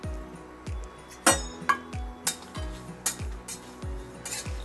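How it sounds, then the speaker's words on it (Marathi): Whole garam masala spices being dry-roasted in a hot kadai, with a run of sharp metallic clinks and scrapes recurring every half second or so as a spoon stirs them against the pan, close and fairly loud, no voices. "हा सगळा मसाला मी एकत्र भाजून घेणार आहे."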